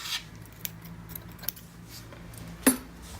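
Scissors cutting yarn, a few soft metallic snips and clicks scattered over quiet room tone, with one sharper snip near the end.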